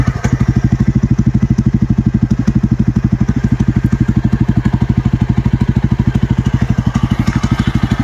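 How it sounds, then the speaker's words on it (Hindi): A Yezdi Adventure motorcycle idles with its exhaust dB killer removed, producing a loud, steady, rapid thumping beat with a deep, throaty tone that holds evenly throughout. "इवन एट आइडलिंग आरपीएम अभी बाइक आइडल कर रही है."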